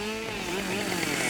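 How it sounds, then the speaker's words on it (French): A chainsaw runs at a steady high pitch, one continuous buzzing engine tone held for about a second without a break, with no voices over it. "Ce que l'on appelle rebond de tronçonneuse, c'est le retour très rapide du guide de la chaîne vers soi."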